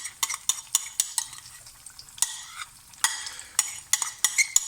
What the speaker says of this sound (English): You can hear it's not a massive, massive sizzle.